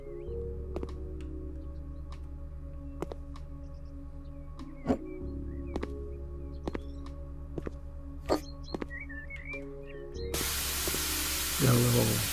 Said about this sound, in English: Got a little pressure washer simulator going on here.